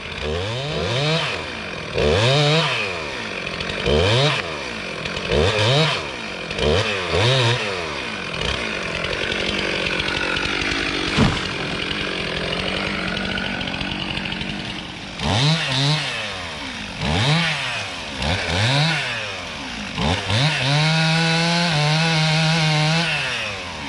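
A chainsaw cuts into a dead tree, revving up and down in repeated surges and then holding a long steady cutting whine before more bursts of revving, loud and close, with no talking.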